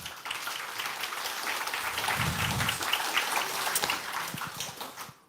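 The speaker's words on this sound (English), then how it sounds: "So big round of applause for our startups." Demo day audience applauding startups at an AI accelerator event: dense, steady clapping from a crowd that holds for several seconds before tapering off at the end.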